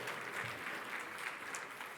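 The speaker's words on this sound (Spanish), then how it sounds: "Si quieren aplaudir, aplaudan" Audience applause fills a large hall at a religious lecture, a steady dense wash of clapping that holds at an even level for the whole stretch with no voices over it.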